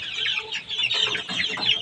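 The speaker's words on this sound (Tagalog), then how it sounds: "Ayan yung tumitilaok. May natilaok na pala." A young rooster, only about a month old, gives a brief, raspy crow mixed with clucking from nearby chickens, a busy, close-up barnyard burst with no talking.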